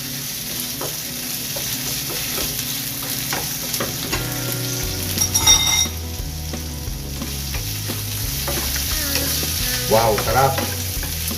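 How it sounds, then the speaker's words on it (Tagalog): Fish roe fries in a hot pan with a loud, continuous sizzle and crackle, stirred now and then, as a voice briefly speaks over it. "Lagay na natin yung itlog ng isda."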